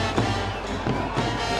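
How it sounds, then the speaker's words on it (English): A football crowd at the Blue Eagles SC vs Colombo FC President's Cup 2020 grand final on a wet pitch gives off a steady, distant roar of cheering voices, with faint rises and no single standout shout. "As the crowd already making their voices heard"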